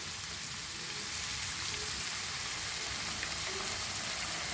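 Ginger garlic paste frying in a pan for a dhaba-style chicken do pyaza, a steady dense sizzle at even loudness throughout, with no talk.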